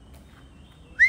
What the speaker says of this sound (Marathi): लांडोर आहे, मोर आहे